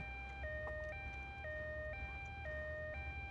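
An ambulance siren in GTA Vice City Stories on PS2 wails in a steady two-tone hi-lo pattern, alternating roughly every half second, moderately quiet over a low rumble.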